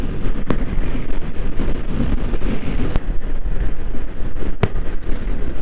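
Strong crosswind buffets a rider on a Honda CBR 250R motorcycle along a coastal highway by the beach. A loud, steady roaring rush fills the whole stretch, broken by a few sharp knocks.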